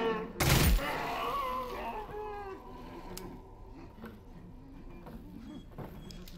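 Gunfire in the VR game Half-Life: Alyx, a single loud broadband blast at the start followed by a ringing, decaying tail under game music and ambience.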